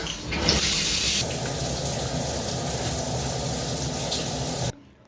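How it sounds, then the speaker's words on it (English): A shower runs in a steady broadband hiss of falling water, loud and close, continuing unbroken for several seconds before cutting off abruptly near the end. "I'm gonna shower finally. There obviously should be hot water now."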